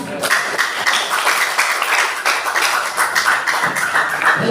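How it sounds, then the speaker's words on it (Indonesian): An audience at a high school student council candidates' debate in Indonesia applauds steadily, a dense wash of clapping that holds at a loud, even level for several seconds. "Beri tepuk tangan."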